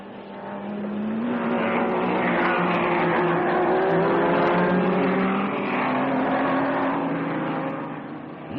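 Several Ferrari racing cars, including those driven by Hill and Von Trips, roar along a circuit in an archival race broadcast, a sustained loud engine drone with rising and falling pitch sweeps as cars pass and accelerate.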